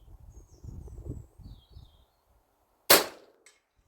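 A single sharp crack from an FX DRS Tactical .22 air rifle, sub-12 ft-lb, on an outdoor 100 m range, following a moment of quiet rustling, with one faint click after it.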